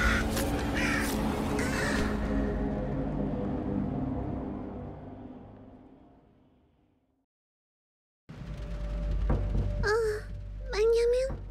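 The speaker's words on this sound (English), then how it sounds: "Crows." Crows caw a few times, loud and close, in the video game Little Misfortune, with harsh rising calls near the end following a stretch of dense game sound that fades to silence.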